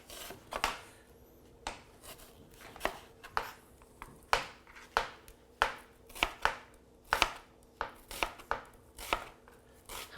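A knife chops a garlic clove on a cutting board in a home kitchen. About a dozen crisp, close strikes come at an uneven pace, with no talking.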